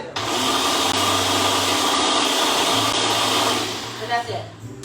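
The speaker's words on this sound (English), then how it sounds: "It's in my super high powered mini blender." A super high powered mini blender chopping carrots, its motor whirring loud and steady for about four seconds before winding down, with a few knocks as it stops.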